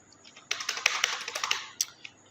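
Text typed into Microsoft Word on a keyboard, a fast burst of about a dozen bright, close key clicks over two seconds, ending with a couple of separate taps.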